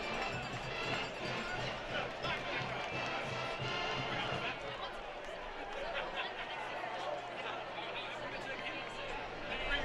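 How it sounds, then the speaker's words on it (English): A big homecoming football crowd in a college stadium gives off a steady roar of cheering and chatter, with a commentator talking over it. "the big homecoming crowd loving what they see right there"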